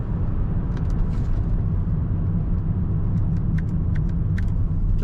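A 2002 Chevrolet Monte Carlo SS Pace Car Edition rounding a roundabout, its engine and road noise a steady, loud low rumble from inside the cabin, with faint light rattles now and then.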